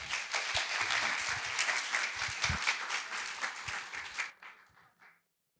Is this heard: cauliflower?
no